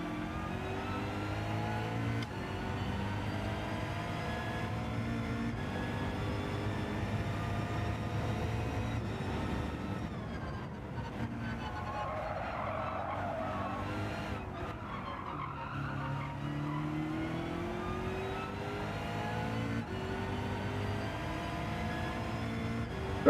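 Race car engine in the Gran Turismo 7 racing game, a steady droning roar with shifting pitch as the car brakes hard and accelerates, with bursts of tire squeal, continuous and fairly loud throughout.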